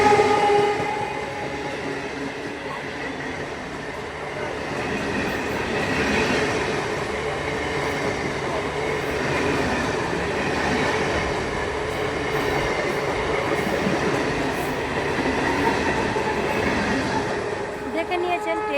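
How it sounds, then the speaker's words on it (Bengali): A train pulling into a station, a steady rumbling roar of wagons and wheels with faint squeals building and holding for the full length, loud and near, with voices in the background. "ট্রেন চলে এসেছে"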